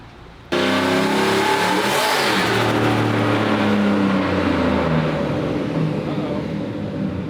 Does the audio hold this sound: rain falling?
no